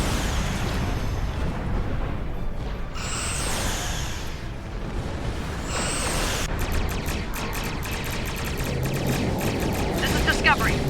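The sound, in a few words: starship lasers firing in video game Star Trek Online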